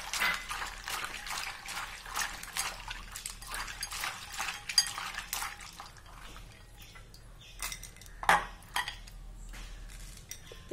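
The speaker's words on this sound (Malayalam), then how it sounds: "നമുക്കൊരു പ്രാവശ്യം കൂടി കഴുകി എടുക്കാം ഇത്." Mango skin pieces for a sweet pachadi are washed in water in a metal vessel, giving soft sloshing, dripping and light clinks of utensils, fairly close and quiet.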